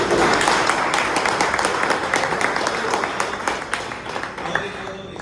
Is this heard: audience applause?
yes